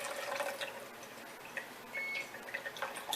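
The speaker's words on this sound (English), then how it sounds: "See how the water's coming right out?" Water trickles and splashes steadily from a squeezed cloth, with small drips and patters, close by and fairly quiet, with no voices.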